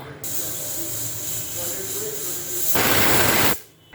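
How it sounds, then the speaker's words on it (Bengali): A pressure cooker cooking dalia kheer lets off a steady, close hiss of escaping steam that swells into a louder, rougher burst before stopping abruptly. "দেখুন প্রেশার কুকারে প্রেশার রিলিজ হয়ে গেছে"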